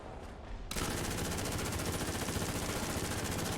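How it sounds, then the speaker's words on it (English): Rapid automatic cannon fire from a Panzer 3E's 37 mm gun in War Thunder breaks out suddenly after a quiet moment, a dense, steady stream of loud, closely spaced shots that continues to the end. "Fired a 37 just for the sake of it."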